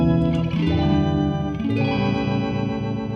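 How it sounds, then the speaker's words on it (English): An Electro-Harmonix keys emulator pedal plays sustained organ chords with a wavering vibrato, rich and steady at close range with no talking. "A little bit of vibrato in there to give it some effect."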